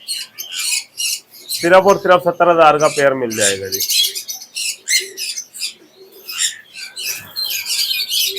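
A pair of lory parrots in a bird shop in Pakistan chirps and calls repeatedly, sharp bursts scattered throughout, while someone talks loudly over them.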